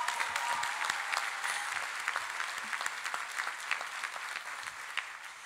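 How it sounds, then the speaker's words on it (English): Sustained applause from a college commencement audience, steady and dense throughout, with no voices over it. "Round of applause for Guarasci."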